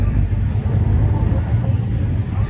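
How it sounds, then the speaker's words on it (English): A Hemi car engine rumbles deep and steady close by at a car meet in Houston, a low continuous idle with slight pulsing, loud and without clear speech. "nothing like the sound of a Hemi"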